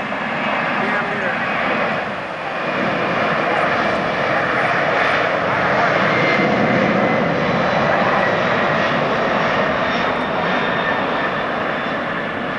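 A heavy Philippine Airlines Boeing 747-400 jet takes off from LAX, producing a loud, steady roar of jet engines that holds strong for the whole stretch, with people talking faintly nearby.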